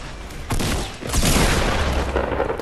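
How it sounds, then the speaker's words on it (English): Grenade explosions in a video game, two heavy booms about half a second apart with rumbling debris and scattered crackling gunfire continuing beneath, loud and close. "No way them grenades went right by us like that"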